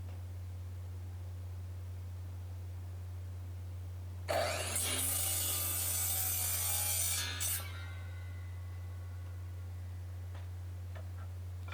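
A wooden board is cut at a 45-degree angle, giving a single burst of sawing about three seconds long in a quiet room, set over a steady low hum.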